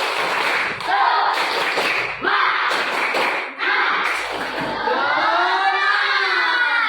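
A class of students performs a rhythmic group clapping chant in a classroom, loud bursts of clapping in patterned groups with chanted voices and children shouting over them.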